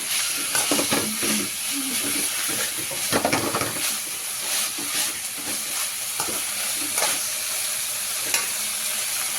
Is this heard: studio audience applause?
no